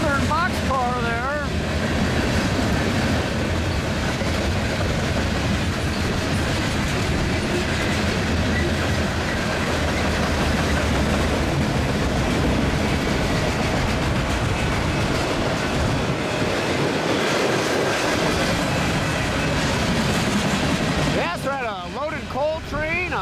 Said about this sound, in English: now this mixed freight all take that crossover all in a row